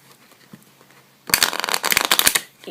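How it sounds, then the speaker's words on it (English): A deck of cards is riffle-shuffled close by, a dense rapid flutter of snapping cards after a quiet start. "I'm just gonna give the deck a shuffle, and you give it a shuffle."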